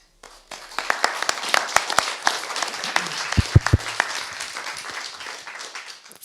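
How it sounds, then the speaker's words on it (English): A room full of people breaks into applause after a presentation on autonomous vision-based drones, dense clapping rising quickly, holding steady and slowly thinning out, with a few sharper nearby claps. "the room gave you a big round of applause"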